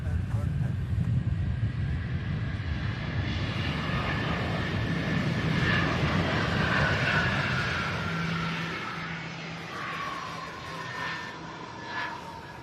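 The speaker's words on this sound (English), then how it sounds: "That was a beautiful landing too." A plane lands at Louisville's SDF airport, its engine roar steady and fairly loud before gradually fading, with a rising whine near the end under the broad rumble.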